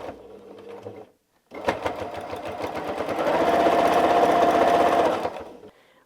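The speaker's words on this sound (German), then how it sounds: "Und wir nähen." A sewing machine stitches along a fabric edge in two runs, a short burst, a pause, then a longer steady whirring rattle that rises in pitch before stopping.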